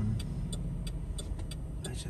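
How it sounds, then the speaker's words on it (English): A car driving through an intersection at night in North Fort Myers, Florida, heard as a low steady engine rumble from inside a waiting vehicle, with faint regular ticking above it. "I just have to wait for this car."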